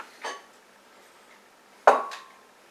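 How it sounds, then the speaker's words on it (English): Eggs and egg whites go into a bowl of flour for gluten-free pancake batter, giving two sharp, close clinks against the bowl about a second and a half apart, with quiet in between. "we are going to put in our eggs and then egg whites"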